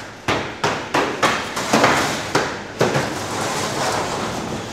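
Frozen fish fresh from freezing tunnels are knocked apart in a processing plant, giving a rapid series of sharp, loud cracks and thuds roughly every half second, then a lingering clatter of loose fish.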